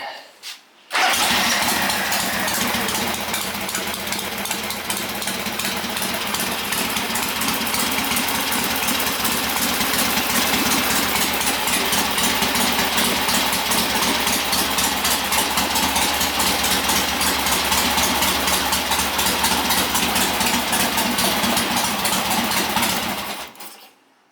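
A 1971 Harley XLH Sportster motorcycle starts on its first attempt and settles into a loud, steady, rapidly pulsing idle that runs close and continuous before cutting off at the end.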